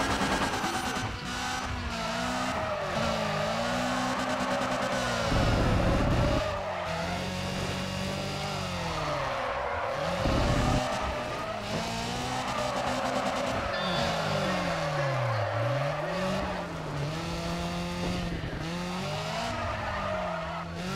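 Race cars drift in Need For Speed ProStreet, their engines droning and revving in wavering pitch while tires squeal in long, sliding wails, loud and continuous with brief heavier bursts.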